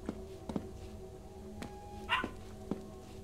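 Dog in the video game Plasticity giving a few short, sharp barks at uneven intervals over a steady hum and faint background ambience.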